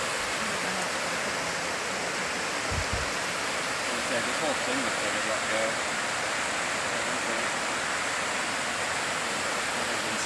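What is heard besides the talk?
raging river flowing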